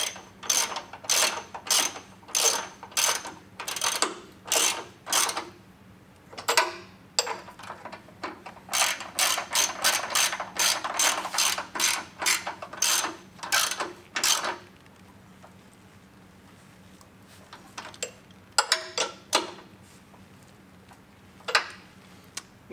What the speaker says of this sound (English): Now we're going to take our ratchet with extension and we're going to tighten this back